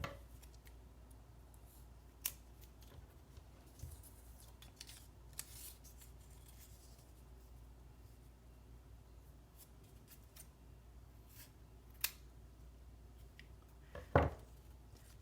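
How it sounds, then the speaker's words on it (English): Scissors snip paper strips for an origami bracelet, a few sharp isolated cuts scattered through a quiet room, the last one near the end a louder quick double snip. "we're going to cut them right at the halfway point so that they end up being 4 to 5 inches long"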